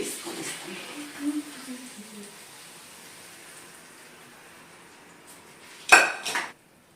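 Softly boiled vegetables are shifted into a serving bowl in a home kitchen, ending in a brief, sharp clatter of a utensil against the dish after quiet handling and faint talk.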